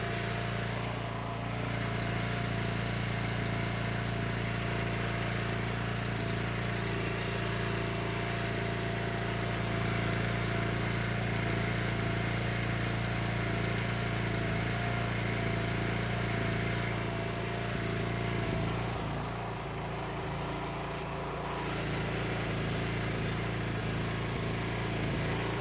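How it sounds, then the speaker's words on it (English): A small engine idles steadily and evenly throughout, a close, continuous low hum while it burns the last of the gas out of its carburetor. "Warming up my fingers while it runs the last of the gas out of the carburetor."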